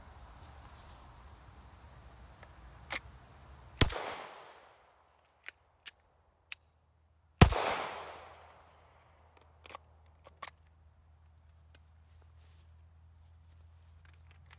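Pistol shots ring out outdoors while a holster is being tested: two loud, sharp cracks about four seconds apart, each with a long decaying echo. Scattered clicks and small handling noises fall between them over a quiet insect-like background hiss.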